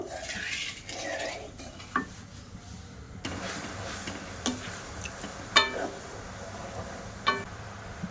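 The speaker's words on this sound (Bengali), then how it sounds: "এবার ঘন করে আমি একটা চিনি শিরা বানিয়ে নেব" Thick sugar syrup with orange juice stirred in a pan, with a few sharp spoon clinks against the metal rim over a quiet bubbling background.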